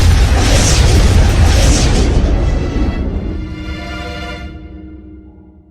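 A loud cartoon explosion booms at once, then its roar and rumble slowly fade away over several seconds, with no talking.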